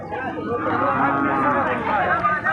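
A black cow lows amid a busy outdoor crowd at the Chandaikona cattle market, with people chattering nearby and a steady wash of background noise.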